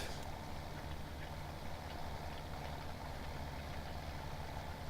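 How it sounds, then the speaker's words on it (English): A tractor engine at work cultivating a field, a steady low mechanical drone with a constant knocking throb, running evenly throughout at a moderate level with no voices. "This tractor does a good job of cultivating work"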